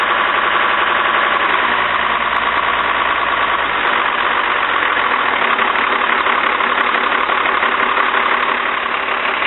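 A Cummins diesel with a VE injection pump idles steadily after an injector line repair, a loud, continuous knocking rumble that holds even throughout, close up with no talk.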